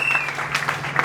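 Short burst of clapping and cheering from a church congregation at an evangelism campaign service, with a sustained tone and voices mixed in.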